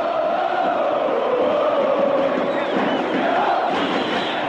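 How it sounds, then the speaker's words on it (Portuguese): Cruzeiro supporters fill a stadium with a dense, sustained roar of crowd chanting and shouting, steady and loud throughout with a slight swell near the end, no single voice standing out. "E a torcida gritando meu nome,"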